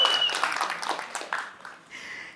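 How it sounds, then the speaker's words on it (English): Brief audience applause at a conference session, clapping that fades quickly while a voice begins speaking over it. "Thanks for the applause, guys"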